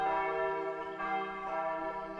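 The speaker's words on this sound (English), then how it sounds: "The rolling sound of bells." Church bells ring in a scene from the visual novel game Narcissu: Side 2nd, with rich overlapping tones that sustain and shimmer, moderately loud and unaccompanied by voices.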